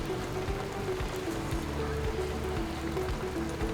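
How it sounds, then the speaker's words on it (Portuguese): Steady rain falling on houses, a dense continuous patter spread evenly through the whole clip with no pauses, moderately loud and close, with no voices. "Imagem das casas lares com chuva."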